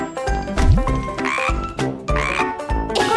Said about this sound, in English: the frog says croak